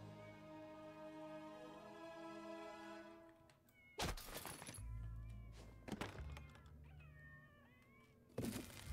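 Cats meow in South Park: The Fractured but Whole, several drawn-out cries over a low game backdrop, broken by a few sharp thuds and clatters.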